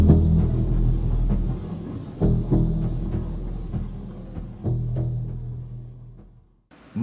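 Low, brooding horror film score bass line, a dark droning rumble that swells and recedes with a few faint higher accents, playing alone for several seconds before cutting off briefly near the end.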